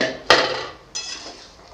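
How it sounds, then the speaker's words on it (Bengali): A metal lid comes off a pot of cooking curry with a sharp clank, followed by a lighter rattling knock as it settles, close and clear with no talk. "তো আমি ঢাকা খুলে দেখব তরকারিটা কত দূর হয়েছে"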